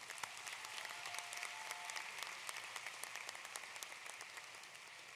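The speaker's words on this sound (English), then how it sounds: "Can we please have a large round of applause for all of these incredible educators?" Applause for educators at a high school graduation ceremony, dense and steady crowd clapping that carries evenly through the whole stretch, fairly distant and with no talking.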